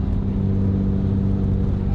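A Porsche Boxster's engine and exhaust echo inside an underpass, a loud, steady low rumbling drone heard from within the car, continuous throughout.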